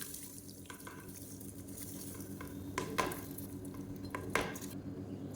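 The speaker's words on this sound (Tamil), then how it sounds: "இப்போ அந்த அரிசியை வந்து இதில் சேர்த்துக்கலாம்" Soaked and drained jeera samba rice is stirred into a pot of mutton biryani, with a soft, continuous wet sizzle and a few sharp clinks of a metal spoon against the pot.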